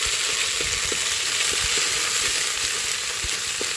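Ginger, garlic and coconut paste fries in hot oil with a steady, loud sizzle throughout, broken by small soft taps and pops at intervals, with no voices.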